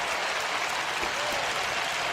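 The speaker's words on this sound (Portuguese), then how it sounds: "aplaudir junto, né, gente?" A church congregation applauding during a Portuguese-language sermon, dense steady clapping from many hands filling the space, continuous and fairly loud.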